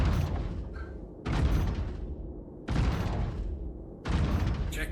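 Heavy gunfire strikes a ship in a naval combat video game, arriving as three or four dense, roaring bursts about a second apart, loud and close, with no talking.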